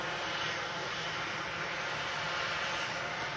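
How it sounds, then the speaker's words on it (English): A plane taking off at Manchester Airport produces a loud, continuous engine roar that holds steady throughout, broad and rushing, with no talk over it. "There you go, beautiful takeoff."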